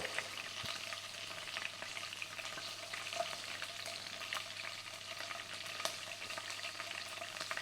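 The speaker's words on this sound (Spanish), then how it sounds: "Y aquí voy a poner unas laminitas de ajo que se vayan cogiendo color" Thin slices of garlic fry in hot oil in a pan where cod has been cooking, making a soft, continuous sizzle with small scattered pops and no talk.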